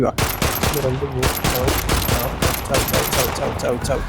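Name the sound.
gunfire in a dinosaur horror video game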